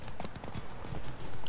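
Galloping horse hooves pound in The Witcher 3 as a horse is ridden, a loud, fast, continuous clip-clop of hoofbeats with no voices over it.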